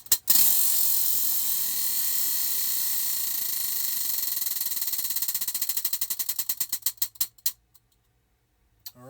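A spinning prize wheel clatters with a dense run of clicks that gradually spread apart and slow to a stop, loud and close, with no voices over it.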